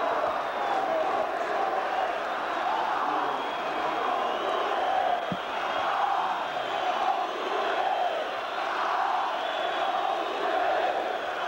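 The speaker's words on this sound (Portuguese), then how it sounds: "Aplaudido pela torcida do Palmeiras, vaiado pela torcida do Corinthians." A large football stadium crowd at a 1999 Palmeiras versus Corinthians Brazilian championship match, a dense continuous roar of mixed cheering and booing during a substitution, steady and distant throughout.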